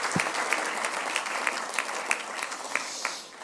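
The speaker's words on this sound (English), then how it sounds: "A round of applause, ladies and gentlemen, please, for Graham and Sue" A crowd applauds steadily at an awards ceremony in the Royal Automobile Club, dense clapping filling the whole stretch and tapering slightly at the end.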